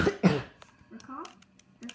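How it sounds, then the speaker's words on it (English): One person coughs twice in quick, harsh bursts, close and fairly loud, followed by brief murmured talk. "Every time I cough."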